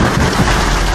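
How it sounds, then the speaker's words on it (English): Hail hammering down on Sydney's northern suburbs at Waitara during a thunderstorm, with stones almost golf-ball size: a loud, dense, continuous roar of impacts over a low rumble, with no voices. "the latest storm fronts have seen hail hammering down the northern suburbs and northern beaches"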